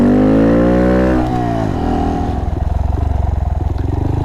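A Honda Monkey motorcycle climbs a hill on its rear wheel. A loud, close engine revs high, its pitch sweeping down as the bike lands, then it drops into a pulsing, throbbing lower note.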